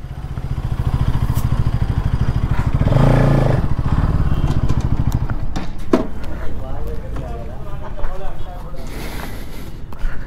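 A Bajaj Pulsar NS200 motorcycle riding on a road, its engine droning steadily with heavy wind buffeting close to the rider, while someone talks over the noise.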